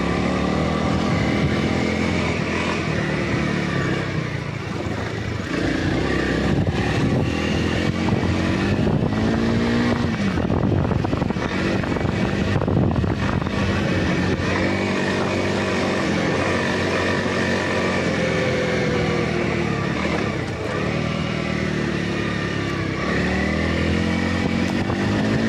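Honda CRF300L dual-sport motorcycle ridden on sandy trails, its engine droning loud and steady throughout with rising and falling revs, heavy wind buffeting, and no talking.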